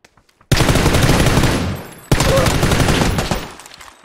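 An SLR rifle in the video game PUBG fires two loud, rapid bursts: a long volley that fades, then a short gap and a second volley trailing off.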